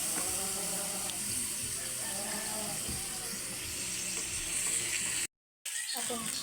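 Pork sizzles steadily in a pan as its fat renders out for humba, a close, bright crackle running almost throughout before a brief break of silence near the end. Some talk sits faintly underneath.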